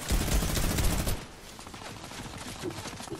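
Rapid automatic gunfire in the video game Fortnite, a loud dense burst for about a second that drops to quieter, scattered shots and game noise.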